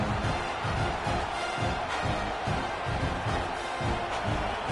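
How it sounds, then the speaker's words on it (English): A football stadium crowd at a Florida State versus Tennessee game roars in a dense, steady wall of cheering that fills the whole stretch without letting up, with a faint voice at times under the din. "Listen to the crowd energy here in the early going."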